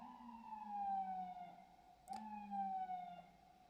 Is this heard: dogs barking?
no